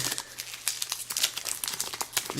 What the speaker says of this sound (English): we'll peel off the plastic. That's satisfying